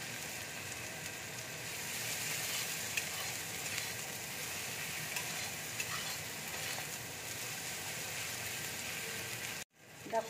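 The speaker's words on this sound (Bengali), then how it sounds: "দেখো, মশলাটা আমার ভালো করে ভাজা হয়ে গেছে।" Spices with green chilli and Kashmiri chilli powder sizzle and crackle in a pan, a steady, close frying hiss with occasional stirring scrapes, ending in a brief sudden drop before the sizzle returns.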